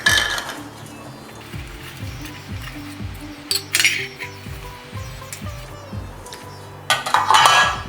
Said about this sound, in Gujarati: ઓકે, તેલ લઈ અને એને ગ્રીસ કરી લઈશું.